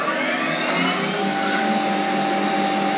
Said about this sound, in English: So it's going to change over to my chamfering tool.